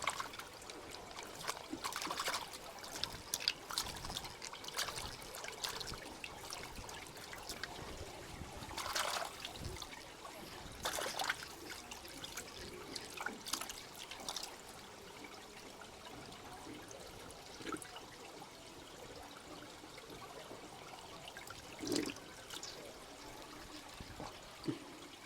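Water trickles and drips steadily inside a cave in the USA, a faint, continuous watery wash with scattered small splashes and no talking.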